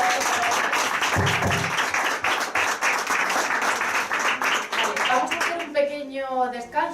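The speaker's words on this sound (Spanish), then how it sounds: "un aplauso para" Audience applause at a Spanish-language science talk, dense sustained clapping filling most of the stretch, loud and close, fading out at the end as a voice begins speaking.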